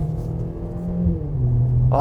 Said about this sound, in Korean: 게다가 이 배기음 한번 보세요